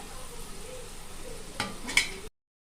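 Beetroot pakoda batter frying in hot oil, a steady soft sizzle with a brief utensil clink and stir near the end before the sound cuts off.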